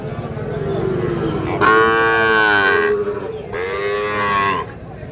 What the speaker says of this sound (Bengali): শাহিওয়াল ষাঁড় বাচ্চা।